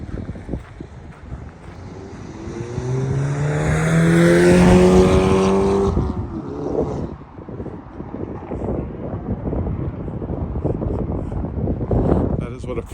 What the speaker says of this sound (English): That is what a French car sounds like, everybody.